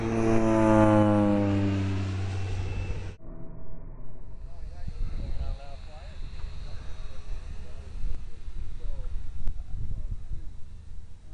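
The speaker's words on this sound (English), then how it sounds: "Here comes that air tractor." An Air Tractor agricultural airplane passes on a windy day, its loud engine drone rising and then cutting away, followed by people talking over wind noise.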